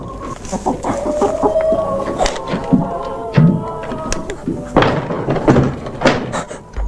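Chickens cluck and squawk inside a chicken coop, several birds calling in overlapping bursts that rise and fall close by, with a few sharp knocks and rustles mixed in.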